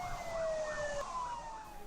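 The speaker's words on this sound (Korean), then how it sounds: "실제 3km 거리의 화재 현장에 출동하는 소방차를 따라가 봤습니다." Fire truck siren wailing up and down, loud and steady, from an engine responding to a fire about 3 km away, with road noise underneath.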